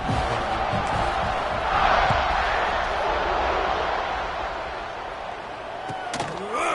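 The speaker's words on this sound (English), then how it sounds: "this crowd is buzzing after that last score" Stadium crowd noise from a College Football 26 game, a steady dense roar that swells briefly before settling, with the announcer's commentary running over it.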